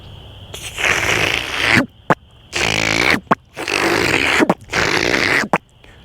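A voice imitates cattail roots spreading underground through marsh mud. It gives several long, raspy, hissing bursts, broken by short clicks and pauses, loud and close.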